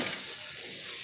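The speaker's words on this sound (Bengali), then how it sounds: "এখানে নাড়তে হবে" A soybean, egg and potato curry hisses in a pan as it is stirred, a dense, even sizzle heard close and alone for a brief moment.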